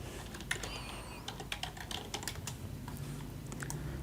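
Fast, irregular clicking of keys on a computer keyboard while names are typed into buttons in Microsoft Access, close and clear with no talking.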